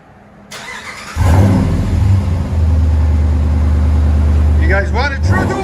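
A 2012 Dodge Ram with a 5.7L HEMI V8 and true dual Flowmaster Super 10s exhausts fires up and settles into a loud, deep, throbbing rumble close by, with a brief rev near the end.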